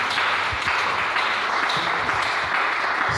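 A church congregation applauds after a sermon, steady dense clapping from many hands filling the room at an even loudness throughout.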